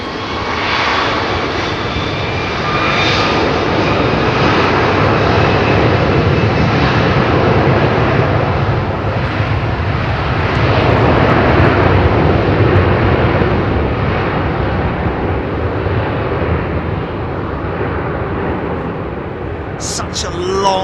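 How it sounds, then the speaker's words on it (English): Rolls-Royce Trent 700 jet engines at an airport spool up in a long, steady rising roar that stays loud and close throughout, with a broad rushing whine building over many seconds. "Such a long wind up on those engines, man."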